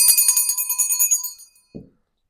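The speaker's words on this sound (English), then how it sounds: "My mom's bell." A small hand bell is shaken, giving a bright, rapid, close metallic jingle that rings for about a second and a half, then stops, followed by a brief soft knock as it is set down.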